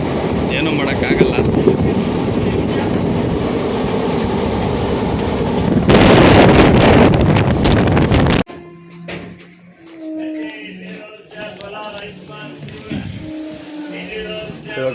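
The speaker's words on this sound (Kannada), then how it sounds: "ಟ್ರೈನ್ ಓಡ್ತಾ ಇದೆ." A moving passenger train rumbles loudly with a constant roar and rising clatter from inside the carriage, then the noise drops away sharply and people talk over a quieter rolling sound.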